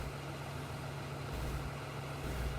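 A large tractor in Farming Simulator 15 rumbles at a steady low idle, its deep engine hum swelling slightly in the second half.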